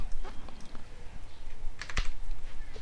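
Keys clatter on a computer keyboard as a number is typed into the Windows 10 mouse settings, a few quick close clicks with one sharper tap near the end.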